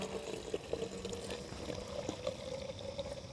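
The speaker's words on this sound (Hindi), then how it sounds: "पूरा बाकी का पानी भर देंगे" Water is poured into a car wash shampoo container, a faint, steady gurgling pour with a thin, continuous trickling tone and no talk.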